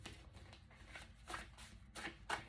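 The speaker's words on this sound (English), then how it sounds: "If I can shuffle through the doggone deck" A deck of tarot cards being shuffled by hand, with soft riffling bursts and flutters at an uneven rhythm, close and fairly quiet.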